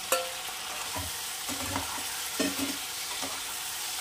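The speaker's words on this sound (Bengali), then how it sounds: "এবার দিয়ে দেবো ভেজে রাখা বেগুনগুলো।" Previously fried eggplant pieces added to a hot pan for a Bengali pabda fish curry and stirred, with a steady sizzle under scattered scraping and clinking spatula strokes, close and moderately loud, no talk.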